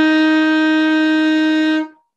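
A single sustained saxophone note played with the octave key pressed, steady and rich in overtones, held for nearly two seconds before stopping cleanly, close and solo with no talking.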